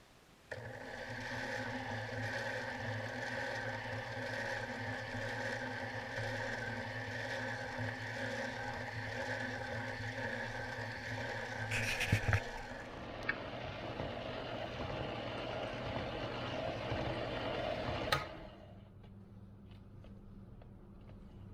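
A sphere machine turns an obsidian orb on 3000 grit for the final wet polishing stage, giving a steady mechanical hum and whir with a few brief clacks before the motor winds down and stops.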